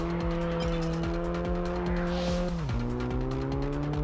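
Tires squeal in a long, continuous drift in the racing game Test Drive Unlimited, the engine droning loudly beneath with a steady pitch that dips midway, no voices over it.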